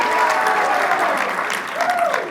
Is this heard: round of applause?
yes